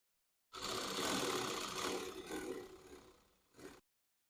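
Sewing machine, model 95-T10, stitching piping onto a blouse, a short close whirring run of about three seconds that slows, pauses briefly and finishes with a quick final burst.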